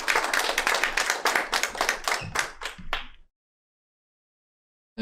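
An audience at a meeting claps for about three seconds, a moderately dense burst of hand claps that thins and stops abruptly, followed by silence.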